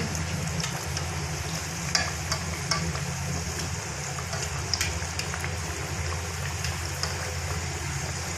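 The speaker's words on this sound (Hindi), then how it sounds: "अब हम इन्हें फ्राई करेंगे।" Samosas frying in hot oil, a dense steady sizzle and crackle close up with scattered pops, continuous with no talking.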